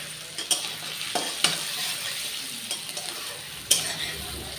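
Bitter gourd frying in oil for shukto makes a steady close sizzle, broken by several sharp spatula scrapes and taps against the pan at irregular intervals.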